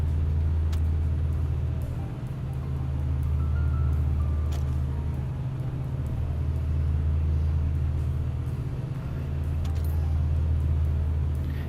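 Aircraft piston engine run-up before takeoff in Microsoft Flight Simulator, a loud steady droning hum that dips briefly and swells again, continuous from start to end.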